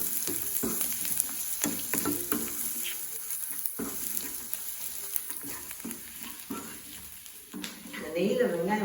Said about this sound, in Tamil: அந்த வெங்காயம் வதங்கிருச்சு.